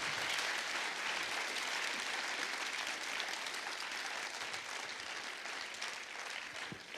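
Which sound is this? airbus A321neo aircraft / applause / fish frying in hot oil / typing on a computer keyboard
applause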